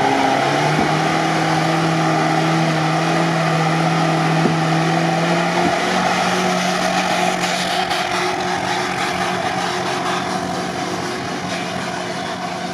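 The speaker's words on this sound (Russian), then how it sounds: "Тяжело мотору." A small ZAZ car's engine drones hard and steadily while climbing sand hills, with the pitch wavering and straining under load, loud and close throughout.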